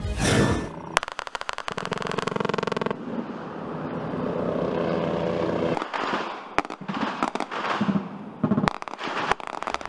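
Philippine Navy helicopter firing .50 caliber rounds and rockets at a target in Ternate, Cavite during military training, heard as loud dense bursts of rapid gunfire and sharp cracks with a roaring background, in several long volleys broken by brief pauses.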